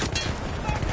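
Gunfire in the Battlefield 1 campaign, a dense, continuous burst of shots with a rumbling low end, heard under a voice.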